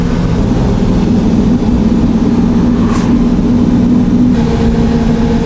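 A 1959 Ferrari 250 GT Pininfarina Coupé with its V12 Colombo engine runs steadily at close range, a loud continuous low drone without speech.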